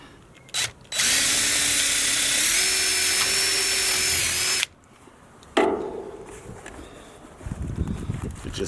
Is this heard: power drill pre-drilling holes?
yes